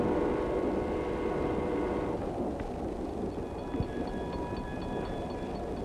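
A 1952 passenger train rumbles along steadily, its low mechanical drone and faint rhythmic clatter continuous, with a brief knock partway through and no talking.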